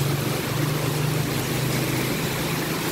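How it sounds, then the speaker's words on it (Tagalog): A steady motor tricycle drone hums on with a low, constant engine tone under broad background noise in the Philippines, holding level without clear approach or fade. "One mode of transportation here in Philippines. Motor tricycle, single tricycle."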